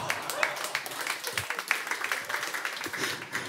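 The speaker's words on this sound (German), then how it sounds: "Guck mal, ganz wenig Applaus" Thin, scattered applause from a small comedy-show audience, a few hands clapping unevenly over a noisy room murmur.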